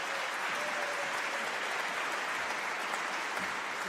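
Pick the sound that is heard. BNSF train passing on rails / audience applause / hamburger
audience applause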